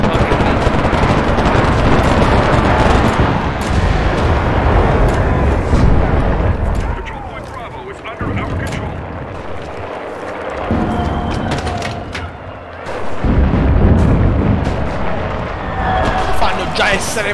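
Gunfire and explosions in the WWII shooter game Enlisted, with loud dense bursts and booms that ease briefly in the middle and then return, while a player talks over the action.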